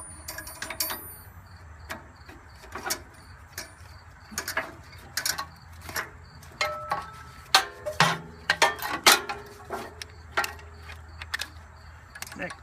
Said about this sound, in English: Connect all three hoses